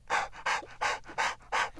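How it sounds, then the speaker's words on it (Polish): A dog pants rapidly up close, five breathy huffs in an even rhythm. "To pies!"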